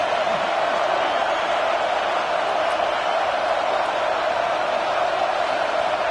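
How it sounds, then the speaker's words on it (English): A football stadium crowd roars in a steady, dense wash of cheering and noise, sustained and loud from start to finish with no break. "Listen to the crowd energy here in the early going."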